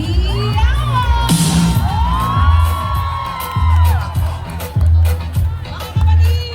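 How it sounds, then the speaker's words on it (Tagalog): Parade crowd on Chater Road in Hong Kong whoops and cheers loudly, with children shouting and bursts of yelling rising in waves over a steady, close din of voices. "Hiyawan!"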